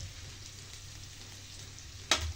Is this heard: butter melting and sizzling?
yes